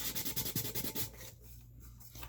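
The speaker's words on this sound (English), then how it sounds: "So we'll spot sand that one." Spot sanding an epoxy-coated glitter tumbler by hand, a quick series of soft, rhythmic rubbing strokes for about a second, then faint scraping texture trailing off into quiet.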